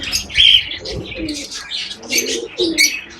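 Pigeons coo in low, repeated throaty phrases inside a bird-keeping setup, mixed with brighter chirps from lovebirds and cockatiels nearby, fairly close and moderately loud with no talk.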